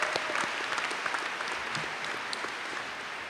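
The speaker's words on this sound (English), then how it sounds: "You can give them a round of applause as well now." A crowd at a high school commencement ceremony applauds graduating seniors with steady, dense clapping from a large audience that carries on throughout.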